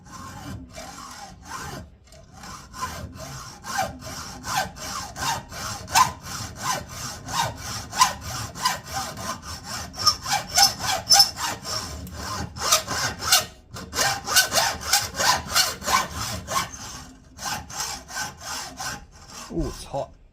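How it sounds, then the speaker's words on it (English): Steady back-and-forth rasping of a small workpiece being sanded flat on a flat plate while making a part for a Viponel darkroom timer, close and continuous with a brief pause or two. "I'll sand it down on a flat plate and bring it into the final size."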